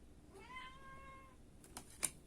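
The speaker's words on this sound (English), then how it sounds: "My cat was upset that she couldn't come in" A cat, upset at being shut out, gives one drawn-out plaintive meow, faint and from behind a door, followed by a couple of soft taps or bumps.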